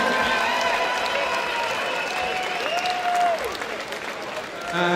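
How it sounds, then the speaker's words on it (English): Crowd at a women's boxing event at Crystal Palace applauds after a bout, a sustained wash of clapping and cheering with a rising and falling whistle or shout above it, continuous and fairly loud. "a big round of applause. Keep it going for both ladies"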